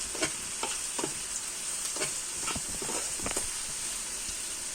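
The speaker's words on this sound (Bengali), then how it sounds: "এর মধ্যে 6টা শুকনো মরিচ দিয়ে দিলাম, গোটা ছাড়িয়ে নিয়েছি। লাল করে ভেজে নিতে হবে।" Six whole dried red chilies fry in hot oil for beef kalabhuna, a steady soft sizzle broken by intermittent stirring scrapes, close and fairly quiet with no talk.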